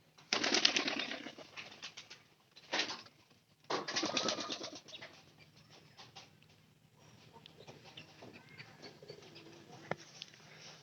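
Pigeons in a home loft of breeding pairs give soft cooing calls and a few louder fluttering bursts early on, then quieter scattered rustling and a sharp tap near the end, with no speech.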